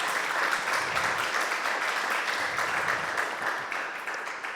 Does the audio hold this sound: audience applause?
yes